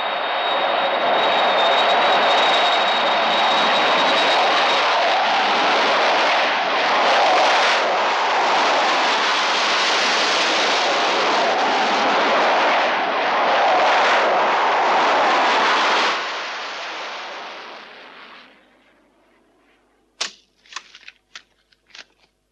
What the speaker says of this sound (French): North Africa, vol 112, autorisation décollage accordée.